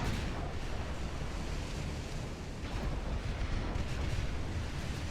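Heavy 18-inch Mark III naval guns fire from a warship in Ultimate Admiral Dreadnoughts, a dense, loud, rumbling roar of blasts blending into the sea battle noise throughout.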